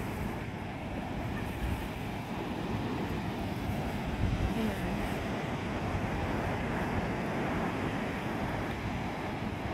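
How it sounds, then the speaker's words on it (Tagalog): Ocean waves on Shek O Beach, Hong Kong, come through as a steady, low, rumbling wash of surf mixed with wind buffeting the microphone, fairly faint and continuous, with no voices. "Tingnan yung waves, guys."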